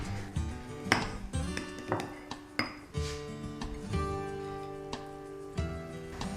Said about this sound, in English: I'm going to scoop the potato dauphinoise out